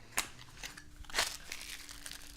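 Cardboard box being opened and a plastic bag crinkling, a few sharp crackling bursts and rustles, close and fairly quiet, with no talking.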